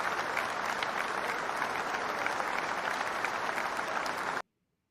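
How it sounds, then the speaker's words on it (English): A canned applause sound effect plays on a sports talk show: dense, steady clapping from a crowd that runs for about four seconds, then cuts off abruptly into silence. "Ever since I discovered how to play the applause to get the applause in the show"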